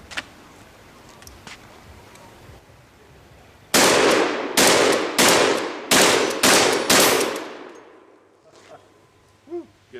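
An old pump shotgun fires about six loud, sharp blasts in quick succession, each echoing and tailing off outdoors, followed by quieter mechanical clicks and faint breathing afterward.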